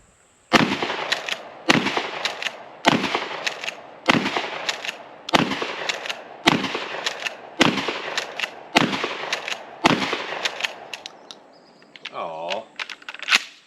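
A Mossberg 590 Security shotgun fires buckshot at a 10-yard target, ten loud sharp blasts in a steady rhythm about a second apart, each with a short ringing decay, then brief rustling and clatter at the end.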